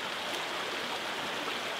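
River flowing beneath a bridge into the Ammersee at night, a steady, broad rushing of water that is continuous and moderately loud with no other sounds.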